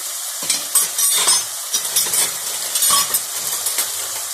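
Chicken vegetable spaghetti sizzling and frying in a pan as a spoonful of vinegar goes in, with spoon stirring and scraping clinks against the pan, close and moderately loud, no talk.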